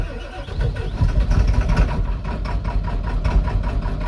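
A Ford 7.3L Powerstroke diesel engine with air in its fuel system runs roughly at a loud, close, uneven idle, its low rumble pulsing and sputtering throughout without settling.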